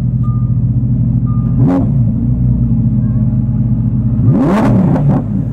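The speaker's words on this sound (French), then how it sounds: "on va la passer en Trofeo. On va lui mettre des petits coups de gaz" A Maserati engine in Trofeo mode is idling with a deep, steady rumble, then given two sharp blips of throttle, near and loud, that rise and fall quickly.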